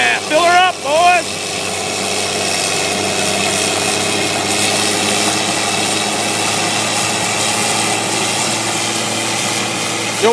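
A John Deere snowblower engine runs at a steady, loud roar throughout, with voices briefly talking over it at the start.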